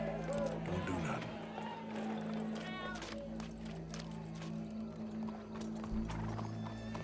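Horse hooves clip-clop steadily in Red Dead Redemption 2, mixed with occasional whinnies and a crowd murmur, fairly faint beneath game characters talking.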